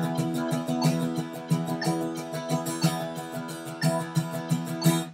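Guitar strummed in sixteenth notes with alternating downstrokes and upstrokes in 6/8, a steady, close, full chordal rhythm with evenly spaced string attacks.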